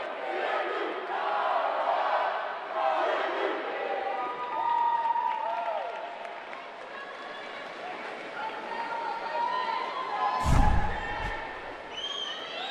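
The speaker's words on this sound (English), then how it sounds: "Big cheer from across the pool as Borgenheimer wins her consolation final race" Cheering from a crowd across an indoor pool at an NCAA Division II swimming championship finals as a swimmer wins her consolation final, a steady broad roar with shouts, a sharp bang near the end.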